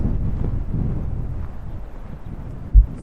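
Strong wind blasts the microphone near Crackington beach in Cornwall, a steady low rumbling buffet that stays loud throughout and ends with a couple of heavy gusts.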